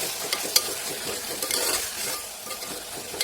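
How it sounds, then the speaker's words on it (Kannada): Potatoes and sweet corn sizzling in an oily pan while being stirred, a steady bright frying hiss with occasional scraping clicks of the spoon, fairly quiet and close, no voices. "ಬಟಾಟೆ, ಸ್ವೀಟ್ ಕಾರ್ನ್ ಇದೆಲ್ಲ ಹಾಕಿ ಸ್ವಲ್ಪ ಫ್ರೈ ಮಾಡಿ"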